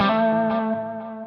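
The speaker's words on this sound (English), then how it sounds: "Perhaps if I turn the delay on." Electric guitar through an effects chain with reverb and a delay switched on: a single sustained, slightly distorted chord rings out and decays with repeating echoes, alone and fairly loud.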